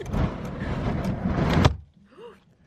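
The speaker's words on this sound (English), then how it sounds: "That's my window shut in" A house window is shut during a storm: a sustained sliding rumble ends in a sharp closing thud, then the room falls quiet with a faint muffled sound afterward.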